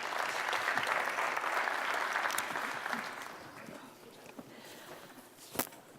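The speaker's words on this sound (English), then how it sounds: "Round of applause, please, for our panel." An audience claps for a panel at an artificial intelligence and data event, with dense applause that fades over several seconds into scattered claps and room noise.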